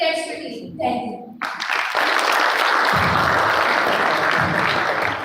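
An audience breaks into loud, sustained applause for a debate performance, rising abruptly after a brief stretch of speech and continuing as a dense wash of clapping.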